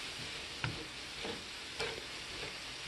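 Sausage browning in a pan, giving a steady, soft sizzle and frying hiss with a few light stirring clicks, heard close and alone at low volume.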